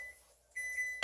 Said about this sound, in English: Buzzer just went.